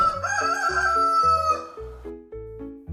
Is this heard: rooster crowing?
yes